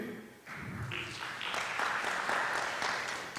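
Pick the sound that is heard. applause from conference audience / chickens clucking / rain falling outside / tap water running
applause from conference audience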